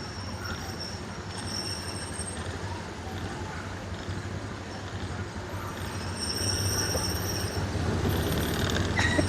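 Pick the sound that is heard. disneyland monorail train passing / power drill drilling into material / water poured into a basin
disneyland monorail train passing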